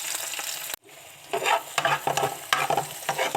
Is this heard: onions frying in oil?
yes